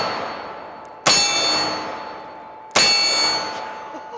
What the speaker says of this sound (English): one-handed shooting with each one of my favorite 500 Magnums on our steel target